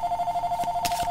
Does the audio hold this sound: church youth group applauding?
no